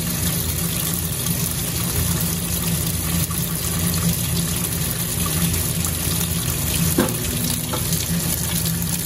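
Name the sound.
water filling a Maytag commercial grade washer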